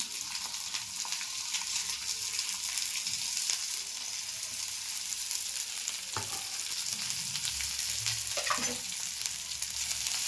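Cabbage sizzles and fries in oil with cumin and mustard seeds, a steady close hiss with a few stirring scrapes and clatters.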